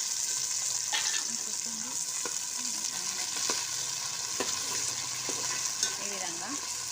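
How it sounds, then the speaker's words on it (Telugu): Onions frying with mint leaves in a pan, a steady close sizzle broken by occasional light stirring taps, with no talking. "ఆనియన్ కొంచెం గోలేటప్పుడు పుదీనా కూడా వేసుకోవాలి"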